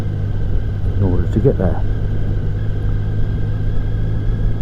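Triumph Sprint GT motorcycle on a road ride near Reading, its steady engine rumble and road noise running continuously and loud while a rider talks over it.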